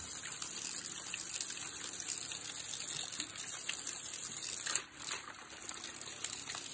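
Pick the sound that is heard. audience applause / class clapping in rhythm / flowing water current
flowing water current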